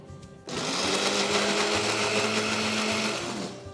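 After a short quiet start, a kitchen mixer roars steadily and close as it grinds spices into a fine paste for spiced milk.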